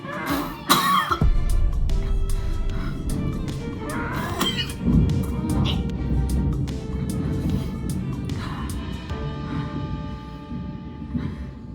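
A sharp cough bursts out near the start, followed by a noisy, rumbling background with scattered rattles and some throat sounds.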